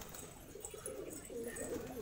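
Pigeons of the Andhra breed cooing softly in a loft, a few low, rolling coos in a quiet room, faint and close.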